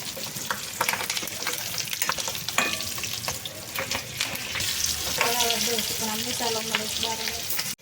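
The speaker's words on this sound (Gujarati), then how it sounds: "જો મસ્તીના તળાઈ ગયા ને મરચા" Dried red chilies and green chilies frying in hot oil for a tempering, a close, steady crackling sizzle with stirring scrapes and a few brief spoon clinks.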